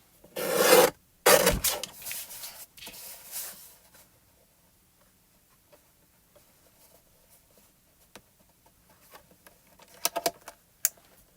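Sweet Mango cardstock being cut to 5 1/4 inches on a paper trimmer, two loud rasping strokes near the start, then long quiet stretches with a few soft clicks and rustles near the end.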